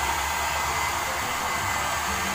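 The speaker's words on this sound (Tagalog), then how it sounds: "Kaya ang hirap i-blower." Hair dryer blowing steadily on thick hair at a salon, a loud continuous whooshing rush held close for the whole stretch with no talk.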